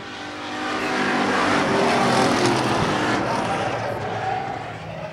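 Modified race cars run on a dirt track at the Boss Hogg 150, their engines roaring together in a dense, continuous drone that swells and holds as the pack passes. An announcer talks over it.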